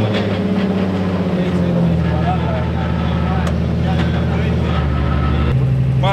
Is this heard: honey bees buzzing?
no